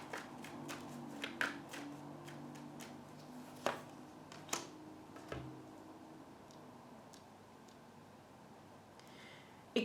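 A deck of tarot cards is shuffled and a card drawn, making soft, faint papery riffles and scattered light taps and slaps, some sharper than others, in a quiet room with no talking.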